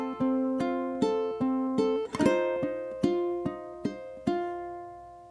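A ukulele picks out the opening two bars of O Holy Night, a slow sequence of clear plucked notes and one strummed chord, each ringing and decaying, played solo without talk.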